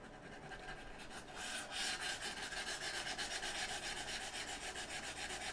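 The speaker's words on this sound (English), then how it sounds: "These mouse feet sound very scratchy right now because they're brand new" Brand-new mouse feet on a Glorious Helios XL hard mousepad give a dry, scratchy rasp as the mouse slides back and forth in quick regular strokes, close and steady throughout.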